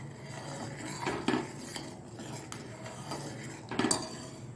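Metal spoon clinks and scrapes against a pot while rice payasam with cardamom powder is stirred, two louder clanks standing out over a soft continuous background, no talking.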